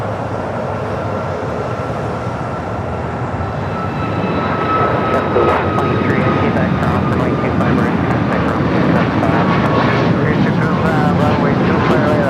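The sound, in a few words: airliner departure rolling down runway 25 right at LAX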